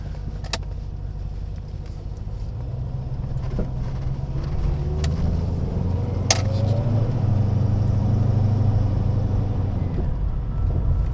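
Rover saloon engine, either an 800 or an SD1 with a Borg-Warner automatic gearbox, droning steadily on a road as revs build, a low continuous hum with a rising whine and occasional clicks.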